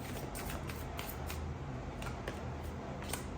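Tarot cards being shuffled and drawn during a reading, with faint repeated papery flicks and soft snaps over a low steady background hum, no voices.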